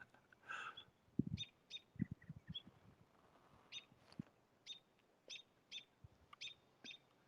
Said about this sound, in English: Do you hear the birds here and there?